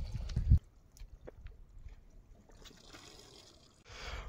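Cold water trickles out of a pipe on a mountain trail: a faint, thin dribble with scattered handling knocks, and a brief louder gush near the end.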